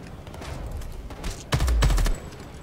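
Gunfire in the Homefront: The Revolution shooter, with a scattering of softer shots building into one loud, heavy half-second burst of rapid fire, then a quieter lull.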